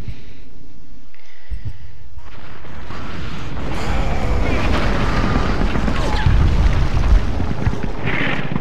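A big explosion in the video game Conker's Bad Fur Day sets off a deep, booming rumble that swells and keeps roaring and crackling for several seconds. A voice is faintly audible under it.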